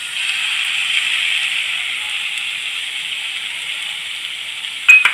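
Steady sizzling hiss of soy sauce and red chili sauce hitting a hot pan while cooking noodles, continuous and close, with a brief louder clatter near the end.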